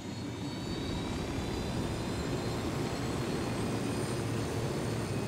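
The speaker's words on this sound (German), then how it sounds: "Das ist ein Heli vor der Nase." A helicopter in the video game Ghost Recon Wildlands drones on in a steady, loud rotor and engine roar that holds unchanged for several seconds, with no voices over it.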